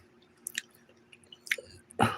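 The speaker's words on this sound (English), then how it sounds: "I hear something crunching." Someone crunches and chews chips up close, with a few short crisp bites and a louder burst of crunching at the end.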